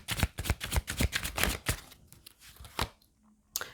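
Tarot cards drawn from a deck and laid down in a quick run of crisp flicks and soft slaps, a brief pause near the end before a final snap; no voice.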